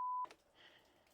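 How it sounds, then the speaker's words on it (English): A phone calendar reminder gives a single short electronic tone, quiet and brief, leaving only faint background noise from inside a truck cab. "That's me just got a reminder on my phone that I've got a parents' night tonight."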